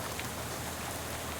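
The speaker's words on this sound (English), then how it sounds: "How about this rain, huh?" Steady nighttime rain on the road in the video game Shadows Over Loathing, a dense, even hiss of falling drops that continues unbroken and fairly soft throughout.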